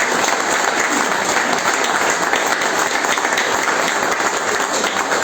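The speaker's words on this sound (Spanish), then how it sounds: "con un aplauso grande para un compañero" A large crowd applauds a speaker at a public talk in Mar de Ajó, producing a loud, sustained wall of clapping that stays even and unbroken from start to finish.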